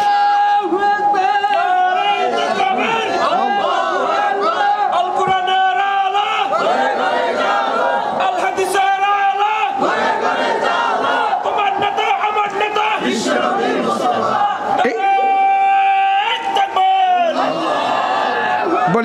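A large gathering at an Islamic sermon shouts the takbir chant, Allahu Akbar, in loud, repeated bellowing waves of many voices, with a speaker's amplified voice mixed among the shouts.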